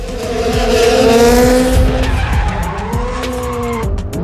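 A loud engine roars as tires squeal and skid continuously, a car spinning nearby beneath the Gravedigger monster truck, with the pitch rising and falling.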